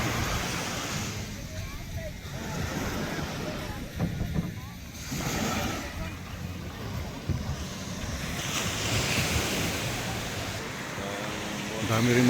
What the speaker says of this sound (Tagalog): Yan, dagat dito.